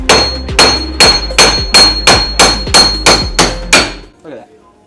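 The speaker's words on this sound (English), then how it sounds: "then you take your fucking mini Thor hammer" A mini Thor hammer strikes an angle kit part on a big-turbo Genesis Coupe in a garage, about ten sharp, loud, evenly spaced blows over four seconds, then silence.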